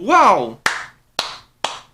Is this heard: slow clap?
yes